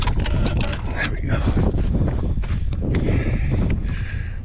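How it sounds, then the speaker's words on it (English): Wind blows at an outdoor heavy-equipment site as a storm approaches, making a rough, gusty rumble against the microphone with scattered knocks and bumps throughout. "Wind's blowing in. Looks like a storm's coming."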